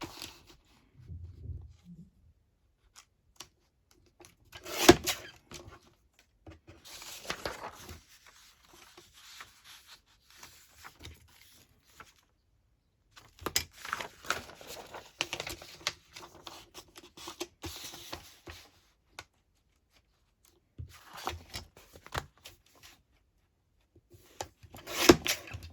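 Scissors cut through a paper map for a mini album, with quiet scattered snips and rustling paper in bursts separated by near silence.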